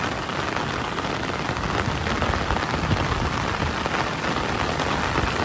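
Heavy monsoon rain pours down in Konkan, a loud, steady downpour drumming on surfaces without pause, with no voices over it.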